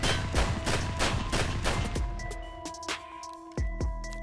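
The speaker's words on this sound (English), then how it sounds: "Nine shots." Nine gunshots fired in the video game Escape From Tarkov, loud and close: sharp cracks come in quick succession, then the reports ring out and decay after the firing, with no talking.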